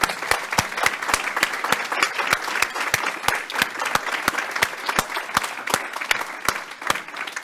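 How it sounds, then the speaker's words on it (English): Sustained audience applause at a panel discussion, a dense crowd of clapping hands with sharp, regular claps from one nearby person standing out over the steady wash. "now that we are all practiced with our preliminary round of applause, let's have the real thing."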